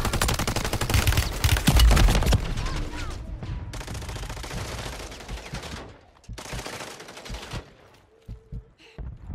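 Rapid SMG fire in Warzone 3 on Urzikstan, loud bursts of close automatic shots that stop and restart in several strings, then trail off into sparse, fainter shots.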